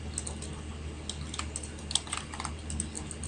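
Close keystrokes clatter on a computer keyboard while HTML code is typed, a quick, uneven run of light clicks over a low background hum.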